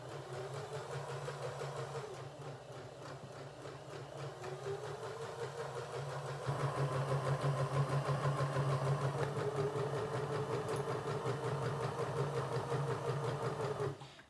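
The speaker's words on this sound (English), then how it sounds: "So we're going to stitch to the corner, leave our needle down, lift our presser foot, turn our project" A sewing machine stitching fabric runs with a steady, continuous mechanical whir that gets slightly louder and faster halfway through, with no talking.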